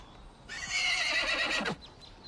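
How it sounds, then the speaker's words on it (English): A horse gives a loud, close whinny lasting about a second, its pitch sliding down at the end, with faint hoof sounds beneath and no voices. "These are not my horses!"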